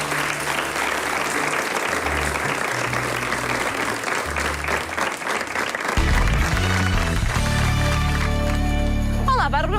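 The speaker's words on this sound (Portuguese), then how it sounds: "Um grande aplauso." A TV talk-show studio audience gives a full round of applause for about six seconds, then loud music takes over.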